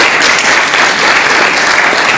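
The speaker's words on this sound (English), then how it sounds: "please give our speaker another round of applause" Audience applause at an evening TED-Ed event hosted by a school fills the room, a dense, steady wash of many hands clapping at constant loudness with no voices over it.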